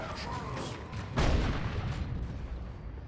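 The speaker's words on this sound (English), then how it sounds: "Here comes Scouts with the grenade." A grenade blast in the Dawn of War 2 strategy game, one muffled boom landing amid a steady wash of distant gunfire and battle noise.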